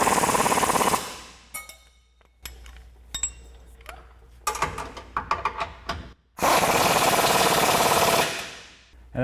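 Ratchet and wrench tightening the lower control arm mounts on a 2022-2024 Toyota Tundra with a 19mm socket, heard as bursts of rapid clicking and metallic ticks between loud broadband air-tool-like roars.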